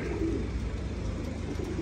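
Soft, continuous cooing of Turkish zeliş pigeons close by, a low throaty murmur over a busy background hum.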